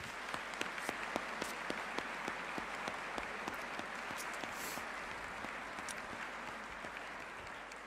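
An audience at an equestrian event applauds steadily throughout, a dense stream of many hands clapping at a moderate distance.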